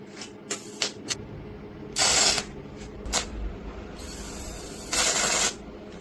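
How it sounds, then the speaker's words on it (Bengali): MIG argon welding machine running on thin sheet metal, with repeated bursts of bright crackling hiss over a steady mechanical hum, close and fairly loud. "তার জন্য এটা মিগ ওয়েল্ডিং, যেটা আর্গান ওয়েল্ডিং, ওই ওয়েল্ডিং মেশিনটা এসেছি"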